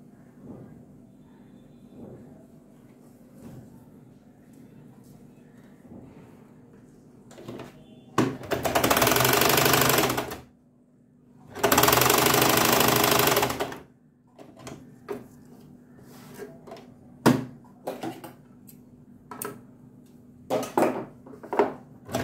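A sewing machine double-stitches a sailor collar in two loud, steady runs of a couple of seconds each, with clicks and handling knocks before, between and after them.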